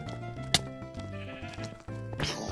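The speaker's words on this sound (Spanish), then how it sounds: "Hay ovejas volando." Sheep in the Minecraft video game bleat loudly in clear, repeated cries over background game music and effects.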